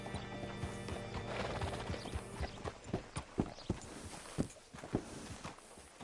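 A horse whinnies and its hooves clip-clop on the ground in the video game Red Dead Redemption 2, with irregular hoofbeats growing sharper and closer toward the end.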